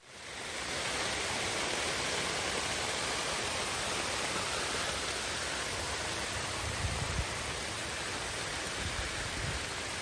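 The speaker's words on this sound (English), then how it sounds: "I'll turn the hose on." A garden hose sprays water onto a hammock set up outdoors, giving a steady, loud hiss of spray that runs unbroken throughout with a few brief splashy bursts near the end.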